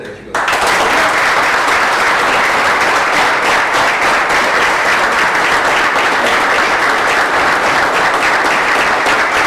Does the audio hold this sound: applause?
yes